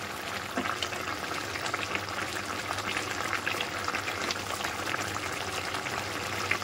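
Pomfret fish curry simmering in a pan after a spoonful of raw mustard oil is stirred in, giving a steady, close bubbling sizzle with faint clinks, no voices.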